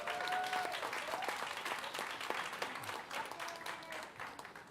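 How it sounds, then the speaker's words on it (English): Guests at a school board meeting receive a round of applause from the audience, a soft, steady patter of many hands clapping, heard from a distance and fairly quiet. "Let's give them a round of applause."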